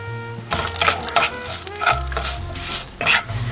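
Onions cooking in a pan toward caramelizing, with loud close scraping and stirring strokes in an irregular rhythm and a light sizzle underneath, and no talking.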